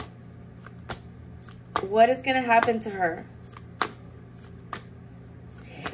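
Tarot cards riffle in a short, soft shuffle amid a few light taps and clicks at close range, while someone talks over and around the sound.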